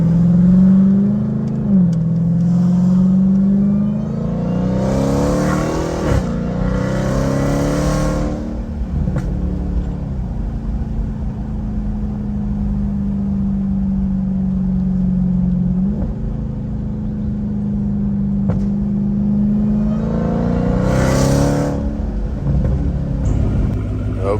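A truck engine turns over and starts, then runs steadily with several revving surges as it drives off, a loud continuous rumble with no talk.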